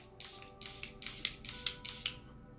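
Setting spray mists onto a face during makeup application, five quick hissing pumps in a steady rhythm, close and crisp with nothing else heard.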